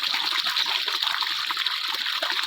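Water gushes steadily from a borewell pipe on a farm in a dry spell, a continuous splashing rush with small bubbling variations, close and moderately loud.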